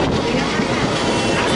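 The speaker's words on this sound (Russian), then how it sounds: "Значит, будет громыхать и железная дорога," Train rumbling past in India, a loud, continuous roar with a heavy low-end drone and no distinct clacks, steady and close for the whole moment.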